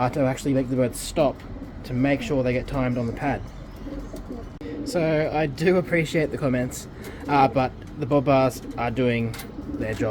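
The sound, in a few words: pigeons cooing in a racing pigeon loft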